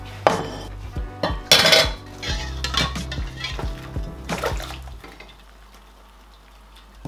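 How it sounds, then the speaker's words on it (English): Cooked noodles and pak choi being drained for a Chinese-style chicken noodle soup, with a run of clattering pot and utensil knocks and sloshing over a low kitchen hum, then a quieter stretch near the end. "Now it's time to drain the noodles and pak choi."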